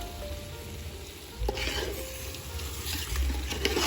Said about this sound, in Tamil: நம்ம முன்னாடியே வந்து பாயில் பண்ணி வச்சுருந்த டர்க்கி வந்து சேர்த்திடலாம்.